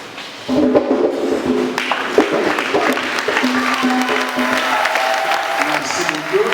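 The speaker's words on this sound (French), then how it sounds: "comme ça nous allons applaudir pour" A church congregation at a Catholic Mass breaks into applause after a brief quiet moment, clapping swelling in and continuing steadily with scattered thumps and crowd noise, voices murmuring underneath.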